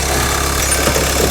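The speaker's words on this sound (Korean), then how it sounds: "시동을 걸고 엔진으로 한번 보여드릴게요" A diesel R-engine SUV idles with a steady low mechanical rumble and a faint knocking clatter, close and continuous, with no talk.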